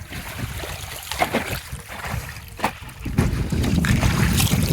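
A boat crossing a river on a char, with a rushing hull and water wash plus wind buffeting the microphone, growing louder and rougher toward the end.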